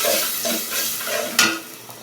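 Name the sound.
stirring spices with turmeric and chili powder in a frying pan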